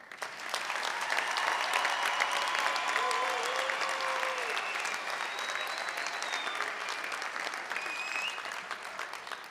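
Sustained, loud applause from a large audience at a graduation ceremony, a continuous wash of clapping filling the hall with faint voices and whistles mixed in.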